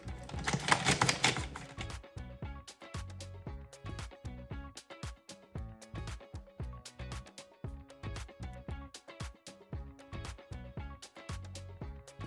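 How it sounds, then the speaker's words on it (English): Red cabbage being grated by hand over a bowl for homemade sauerkraut, a steady run of close, crisp rasping strokes in a quick repeating rhythm, with a louder, denser burst at the start and no talking. "grate it similar to white cabbage, and I add it to our bowl."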